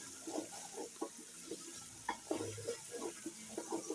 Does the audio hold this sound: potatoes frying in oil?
yes